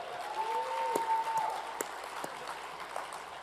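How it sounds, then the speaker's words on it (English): Applause from an audience at a political speech by a congressman, steady and moderately loud throughout, with a sustained tone and occasional sharper claps standing out. "let's clap it up for that"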